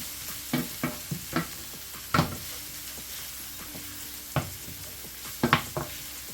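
Seafood boil ingredients sauté in a pot under a soft, steady sizzle, with a scattering of sharp spoon clinks and scrapes against the pot, close by and fairly quiet.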